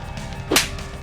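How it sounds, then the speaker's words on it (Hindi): A single sharp, whip-like slap sound effect from a TV serial cracks once, loud and close, over a steady background music bed. "जड़ा नीति को थप्पड़।"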